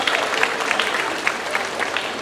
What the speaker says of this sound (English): Give him a big round of applause, everybody.